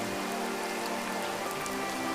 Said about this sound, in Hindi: जोरदार बारिश शुरू हो गई